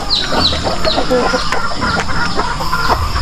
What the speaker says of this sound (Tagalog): nangingitlog na manok tayo dyan